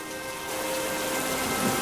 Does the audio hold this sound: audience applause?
no